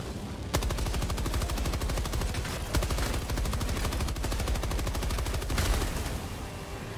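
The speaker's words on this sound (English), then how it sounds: "You still firing at something? What are you firing at?" Rapid automatic gunfire rattles almost nonstop in Helldivers 2, dense bursts of shots with slight swells in intensity, loud and close with no talk.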